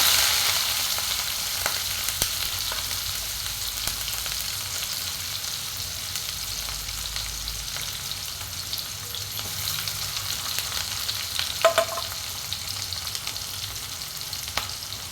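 Mustard seeds, cumin, garlic and onion frying in hot oil in a pan, a steady close crackling sizzle with occasional stirring clinks and pops, and no voices.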